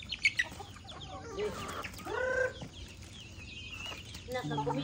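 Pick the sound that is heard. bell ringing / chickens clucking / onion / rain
chickens clucking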